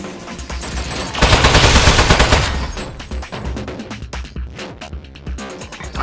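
Rapid turret machine-gun fire bursts out loudly in the Aperture Desk Job video game, a dense rattling volley that swells and then breaks into shorter choppy bursts alongside other game noises.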